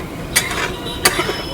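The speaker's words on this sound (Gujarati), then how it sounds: "બધી ચટણી મિક્સ સારી રીતે થઈ જાય" Chutney being stirred to mix it in a pot, two sharp utensil scrapes against the vessel about a second apart, close and clear over a faint background.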